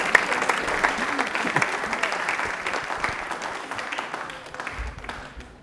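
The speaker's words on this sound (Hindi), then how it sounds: "हर्ष के लिए तालियां हो जाए जोरदार वाली।" Studio audience on a televised quiz show breaks into vigorous applause, a dense sustained clatter of many hands that slowly thins and fades toward the end, with a low murmur beneath.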